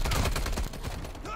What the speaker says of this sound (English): Brick, there's a guy ready to test the Milano.